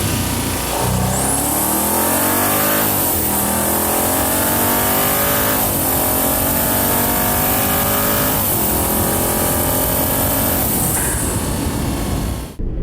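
A 2013 Audi S8 accelerates hard in manual mode, its engine climbing through rising gear sweeps with brief dips at each shift, loud and continuous from the cabin.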